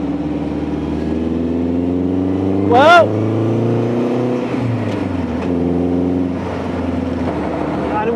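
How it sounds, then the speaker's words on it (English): A Mazda MX-5 Mark II roadster comes up from behind, its engine drone mixing with the steady hum of the car being driven, while someone talks over it and a brief tonal whine rises in the middle. "There's an MX-5, that's a Mark II. It's coming up behind me."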